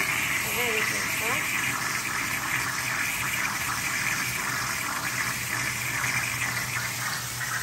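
Tap water gushes steadily into a kitchen sink while lunch is prepared at home in Guarujá. The rushing is loud, close and unbroken, and a faint voice briefly comes through near the start.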